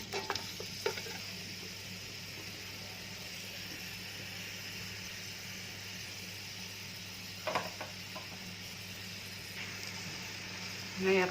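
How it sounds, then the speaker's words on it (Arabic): Chopped vegetables frying in hot oil for a red lentil soup, with a continuous low sizzle and a few sharp stirring clatters near the start, around the middle and near the end. "غادي نبدا نقلي في الخضره تاعي اللي راني قطعتها اون مورسو بهذا الشكل، غادي نخليها تتقلى"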